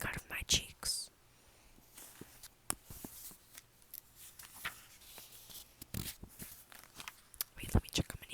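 Paper pages of a book being flipped and handled in a quiet room, with soft rustles and crisp page turns at close range, scattered irregularly between gentle whispered speech.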